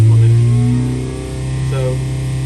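A 998 cc Mini engine fitted with a 28/36 Weber carburettor on a banana manifold and a large-bore 4-2-1 exhaust runs on a dyno, a loud, steady mechanical drone with strong low hum that dips briefly then rises again.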